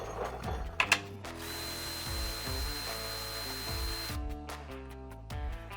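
Hand tools click and ratchet while undoing the upper brake line hold on a truck during a ReadyLift suspension lift kit install, with a couple of sharp metallic knocks early, then a steady mechanical whir.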